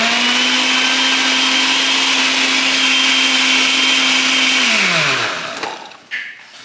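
A blender blends avocado crema with a loud, steady high whir for several seconds. The pitch then drops as the motor winds down and stops, followed by a brief clatter.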